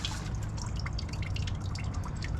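Water drips and trickles steadily from a bag holding seedlings, a continuous close patter of droplets over a low background hum, with no one speaking.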